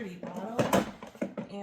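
Drawer being pulled open, a few quick sliding knocks and clatters of small bottles inside, close and fairly loud, with a voice speaking around it.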